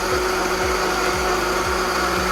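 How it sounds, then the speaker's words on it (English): A kitchen blender runs close and loud, pureeing a mixture with butter, its motor whining steadily while rhythmic pulses churn roughly every half second. "Forget how this blender works."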